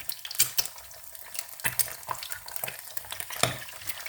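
Eggs sizzle in hot oil in a pan for Thai basil stir-fry with fried eggs, a steady crackling fry broken by scraping stirs and light utensil taps, close up with no talk.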